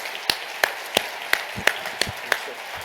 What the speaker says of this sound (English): give a round of applause for Major General Cameron Holt